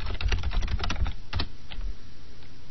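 Quick bursts of typing on a computer keyboard, close and crisp keystrokes in a fast run that thins out to a few scattered taps, no voices.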